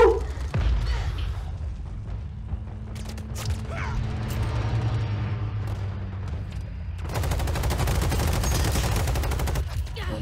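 Bursts of automatic gunfire crackle through a Call of Duty: Modern Warfare ground war match, a steady rattle of distant and mid-range shots with a louder sustained volley near the end.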